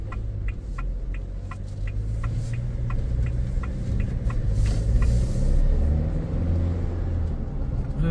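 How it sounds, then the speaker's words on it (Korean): A GWM Canon pickup truck accelerating, heard from inside the cabin as a steady low engine rumble that slowly swells. A regular clicking ticks along over the drone for most of the clip. "엔진 소음이 실내로 들어오는 것도 충분히 이해할 만한 정도의 수준이고요"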